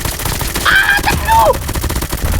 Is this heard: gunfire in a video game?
yes